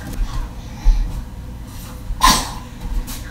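A baby's small, sharp sneeze bursts out once, near and quick, amid soft breathing and quiet room noise.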